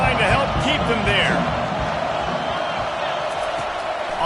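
A large stadium crowd at a football game roars in a steady, dense wash of cheering and noise, with play-by-play commentary running over it.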